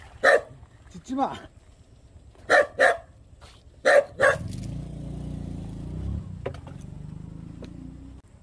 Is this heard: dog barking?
yes